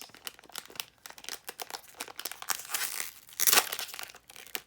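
A candy wrapper is crinkled and crackled up close in rapid irregular bursts, building to a sharper tearing rip near the end, with no talking over it.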